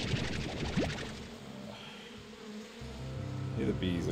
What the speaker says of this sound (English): Hear the bees